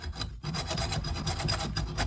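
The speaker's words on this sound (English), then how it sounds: "I'm going to rest my hacksaw on the edge here just to help to get it started" A hacksaw cuts through copper pipe clamped in a vise, giving a steady, rapid rasping back-and-forth stroke that runs almost continuously and close up, with a brief pause near the start.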